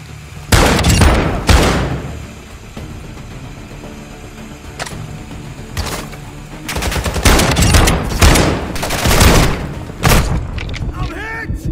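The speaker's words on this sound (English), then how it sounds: "You are taking effective fire." Gunfire in Call of Duty: Warzone 2.0 DMZ, with loud bursts of automatic fire and heavy booms in clusters, separated by quieter stretches of game ambience and radio-style voice chatter.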